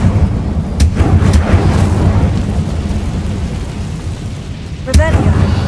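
An Incendio fire spell cast in Hogwarts Legacy, a loud booming whoosh of flame that rumbles steadily, then a sharp burst near the end.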